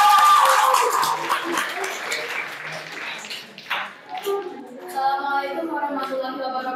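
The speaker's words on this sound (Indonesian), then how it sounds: "Tepuk tangan untuk kelompok 2" A classroom group claps for the second team, a short burst of applause that fades out, followed by voices talking.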